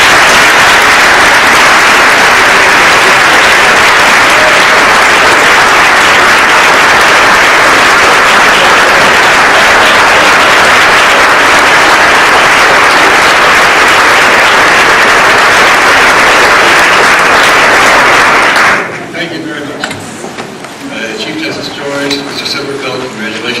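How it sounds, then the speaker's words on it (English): A large dinner audience at a bar association awards event applauds an introduction, loud, dense and sustained for about nineteen seconds, then cuts to quieter room noise with clinking dishes and murmuring voices. "I invite your applause for both men and your welcome of Justice Kennedy to speak to us now"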